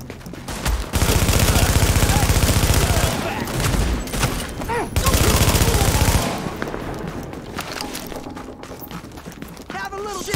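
Loud bursts of automatic rifle fire rattle in the shooter game The Division, with rapid shots in long volleys, brief pauses and a voice shouting over the gunfire.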